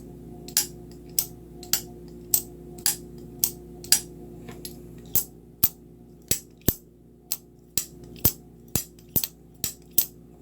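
A Civivi Conspirator button lock folding knife being flicked open and shut over and over, giving an evenly spaced run of sharp metallic clacks and clicks with a faint ring, close and alone over a quiet background hum.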